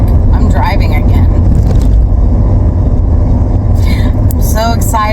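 Car driving along a road, its steady loud low rumble and road noise filling the cabin throughout while a person talks over it in short bursts.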